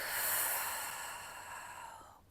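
A long, soft exhale through the mouth during a pilates core exercise, a breathy airy whoosh that starts strong and gradually fades out over about two seconds, close and quiet.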